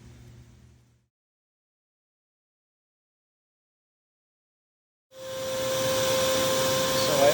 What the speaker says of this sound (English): I have one of these little Harbor Freight shop vacs.